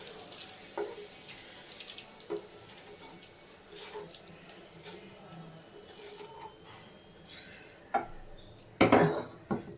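Dried bitter gourd fries in a pan with a soft, steady sizzle, broken by occasional utensil clinks and a louder scrape near the end.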